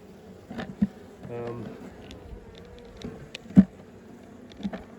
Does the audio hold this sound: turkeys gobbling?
no